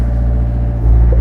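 A 2019 Hyundai HW60 wheeled excavator rolls along at low speed, its diesel engine giving a steady, close, deep rumble that swells slightly toward the end, with no voices.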